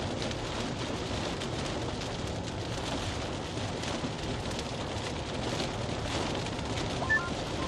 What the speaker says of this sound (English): It just started raining again here.